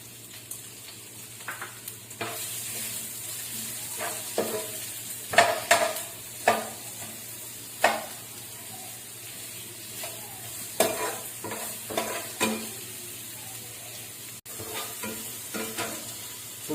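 Onions sautéing in oil in a pan while being stirred, a steady soft sizzle broken by repeated clatters of the spoon against the pan, with no talking.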